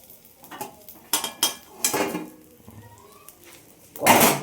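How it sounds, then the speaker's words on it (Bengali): A metal spatula scrapes and clinks in a pan in short bursts over a faint sizzle as topse fish fry, ending with a louder scrape. "এবার এই দুটো এগুলোকে একটু ভালো করে নেড়ে নিই"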